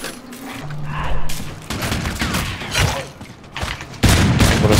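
Gunfire from the Call of Duty Infinite Warfare zombies mode rings out in loud, rapid bursts and booming blasts, a fusillade that comes and goes in waves and swells hard at the end.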